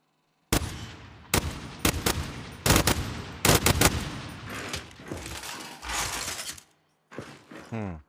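Turret gunfire in the video game Gears 5: loud, sharp bursts of automatic fire in quick clusters, with rattling tails and a mechanical whir trailing off near the end.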